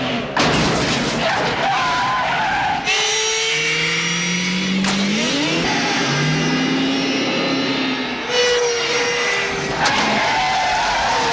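Car chase from the film The Dead Pool: loud engines rev and accelerate with rising whines, tire noise and impacts, continuous and close throughout.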